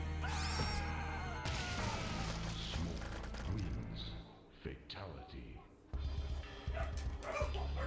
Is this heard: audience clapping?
no